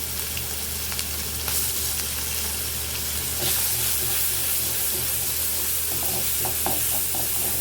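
Garlic sizzles in hot oil in a pan right after the fried dried red chillies, a loud, dense hiss that swells midway, with scattered crackles and stirring scrapes near the end.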